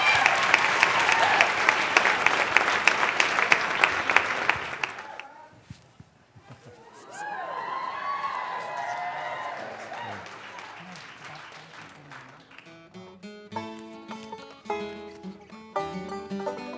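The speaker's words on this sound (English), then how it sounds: "Give him a big round of applause." Dense, loud applause from an audience at a college follies talent show fills the first few seconds and then cuts off, followed by quieter stage sounds and tones as a performance begins.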